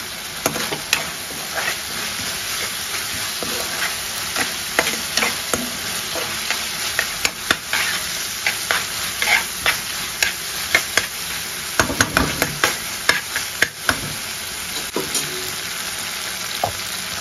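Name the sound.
green chillies and onions frying and being stirred in a pan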